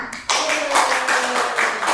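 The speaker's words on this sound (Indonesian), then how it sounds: "Beri tepuk tangan." A class bursts into clapping after a student's answer, giving close, continuous applause that starts abruptly and runs at a steady level, with a voice faintly audible underneath.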